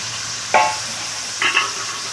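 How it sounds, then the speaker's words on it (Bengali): Fried ridge gourd, potato and snails are stirred together in hot oil, giving a constant sizzling hiss with two brief scraping stirs. "ভেজে রাখা ঝিঙে, আলু আর গুগলি একসঙ্গে আছে দিয়ে দেবো"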